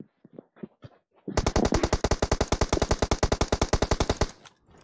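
Rapid automatic gunfire from a video game, a long even burst of sharp shots lasting about three seconds, preceded by a few scattered softer clicks and thumps.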